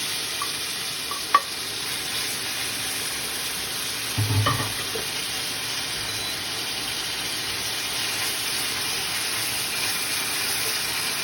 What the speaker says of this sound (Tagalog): igigisa ko na rin ang sibuyas.